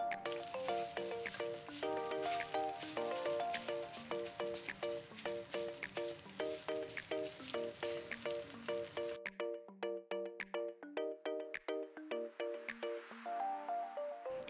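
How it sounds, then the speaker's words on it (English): Beef browning in hot oil in an Itaki Shabuki pot for pepper steak, a steady close sizzle with rhythmic stirring clatter that drops away partway through and then returns, with no voices. "Next, add the beef and brown it."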